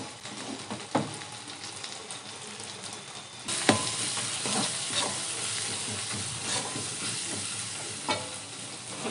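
Turmeric and chili powder frying with ginger, garlic and tomato in a pan for a fish curry, a loud continuous sizzle and hiss with stirring scrapes, a sharp burst of sizzle partway through as spices hit the oil, no voices.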